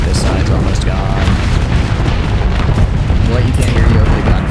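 Continuous loud gunfire and booming explosions from a Starsector space battle, a dense, unbroken roar of blasts filling the scene at close range.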